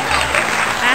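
A short burst of clapping for Duda beside a swimming pool during kids' pool games, brief and lively, mixed with voices talking.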